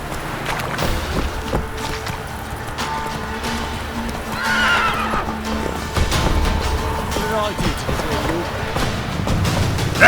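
Horse named Roach galloping and neighing in The Witcher 3 fantasy video game, steady hoofbeats under a loud whinny midway, with a voice talking over the action.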